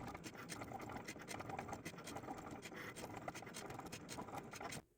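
A Cricut machine cuts heat transfer vinyl nail decals with a faint, steady whirring scrape that runs evenly, then stops abruptly at the end.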